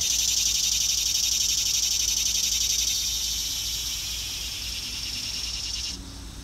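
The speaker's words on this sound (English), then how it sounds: "Sorry about the cicadas. There's a lot of them around here." A dense, steady insect drone of cicadas fills the air, loud and continuous, easing slightly toward the end.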